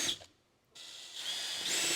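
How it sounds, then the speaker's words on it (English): A power drill bores pilot holes for mud flaps on a Jeep Gladiator, two bursts of high whining spin separated by a short quiet gap, close and fairly loud with no talking. "So we're just going to drill a couple pilot holes."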